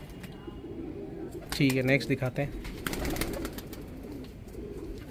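Racing pigeons coo softly in the background while someone talks, with a louder burst of fluttering and handling noise partway through.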